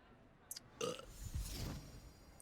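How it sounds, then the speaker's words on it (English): In a Hogwarts-style video game, a character lets out a belch as a polyjuice potion wears off: a short, moderately loud burp with a brief voiced rumble, otherwise quiet. "Why did I belch? The polyjuice potion's wearing off."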